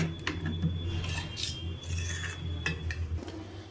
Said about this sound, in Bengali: আমি চামচ দিয়েই আমি ব্যাটারটাকে তৈরি করে নিলাম। এইভাবে ভালো করে একটু ফ্যাটিয়ে নিচ্ছি।